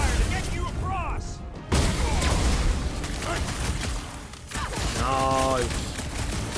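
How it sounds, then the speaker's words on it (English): Covering gunshots crackle in quick bursts with booms and mechanical clatter in the Guardians of the Galaxy video game, under steady character voices talking throughout. "I'll lay down some cover fire to get you across!"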